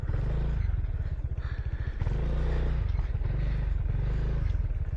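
Motorcycle engine chugging loudly and steadily up close while riding along a rough, potholed road near the Cagsawa Ruins, with the low throb swelling and easing in uneven surges and some clatter from the bumps.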